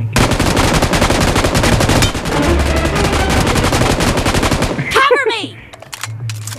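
Rapid, sustained automatic gunfire from a one-versus-one shooter video game match, loud and dense for about five seconds before cutting off into quieter game sounds, with brief voice chatter mixed in.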